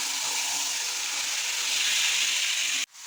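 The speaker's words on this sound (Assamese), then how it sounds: "ধুনীয়াকৈ ভাজি আছোঁ।" Onions and tomatoes frying in ghee in a pan, a steady close sizzle that fills the clip and cuts off abruptly near the end, with no talking.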